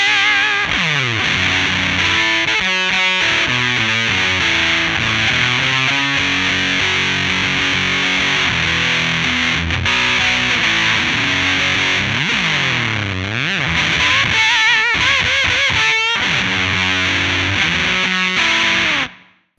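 An electric guitar played through a Warm Audio Foxy Tone Box fuzz pedal gives a thick, saturated, sputtering distorted tone that chokes up, heard loud and continuous over a busy riff with no talking.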